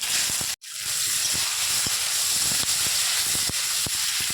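Steady, loud hiss of onions, bay leaves and cumin frying in hot oil, with faint intermittent clicks and taps over the continuous sizzle.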